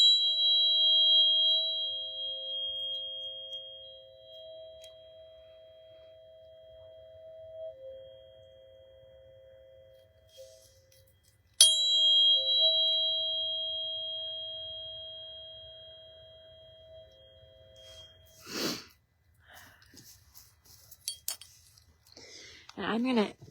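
Two tuning forks at 639 Hz and 528 Hz ring together as steady, pure sustained tones. They are struck again midway and fade slowly. A soft rustle and some handling clatter come near the end.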